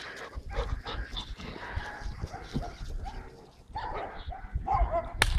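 A dog playing fetch gives several barks, yips and whimpers at close to middle distance, scattered irregularly over outdoor background noise.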